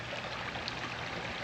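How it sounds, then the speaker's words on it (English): A small waterfall in a Clayton, Missouri garden sends water babbling and cascading over stones, a steady, even rush of splashing that holds constant throughout without any voices. "Such a subtle little babbling brook sound. We've got the water cascading right around those stones"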